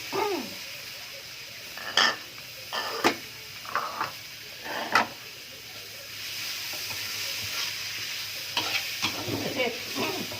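Tomatoes go into a jackfruit and pork-bone curry frying in a pan and get stirred, giving a steady sizzle under repeated scraping, clattering strokes of a spoon, up close and with no talk.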